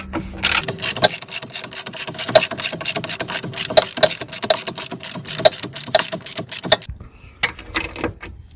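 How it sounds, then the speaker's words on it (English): A hand ratchet clicks rapidly and close up while tightening a suspension control arm bolt on a Volvo XC60, giving a long run of sharp, evenly spaced metallic clicks that stops abruptly near the end. "We've got the extension bar holding the top nut while I'm securing it."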